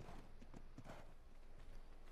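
In the video game Ark Ragnarok, a black horse clip-clops with faint, steady hoofbeats under a constant hiss of background ambience, with no speech.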